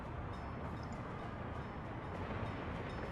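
A train in the Workers and Resources city-building game gives a steady, dense rumble of rolling rail cars, constant and unbroken throughout with no voices.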